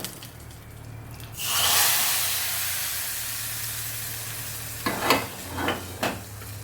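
A hot tempering of dried red chillies, curry leaves and asafoetida hits drumstick sambar with a sudden loud hiss that slowly settles into a sizzle, followed by a few clanks of the pan and spoon.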